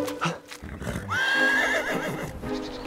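A horse lets out a loud, drawn-out whinny that rises and wavers, with a faint voice and some shuffling around it.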